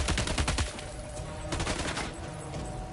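Rapid bursts of Warrior assault rifle fire in the Death Stranding 2 video game, loud and close, with a dense volley at the start and another around the middle.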